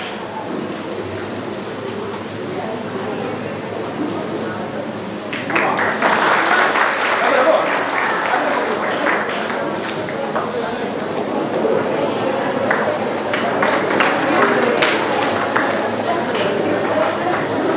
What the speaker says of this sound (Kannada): ಎಲ್ಲ ಮಕ್ಕಳು ಜೋರಾದ ಚಪ್ಪಾಳೆಯನ್ನ ಕೊಡುವ ಮೂಲಕ